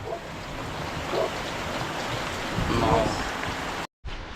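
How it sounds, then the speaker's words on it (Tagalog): Steady, dense rain hisses all around, heavy and continuous, with faint scattered sounds beneath it and a brief cut near the end. "Ang lakas ng ulan."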